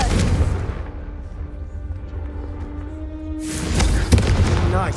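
In the Hogwarts Legacy video game, a Confringo spell bursts with a deep booming blast and fiery crackle, followed by a rumbling swell and a second sharp impact near the end.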